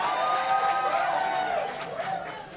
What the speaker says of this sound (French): On applaudit Jojo le comédien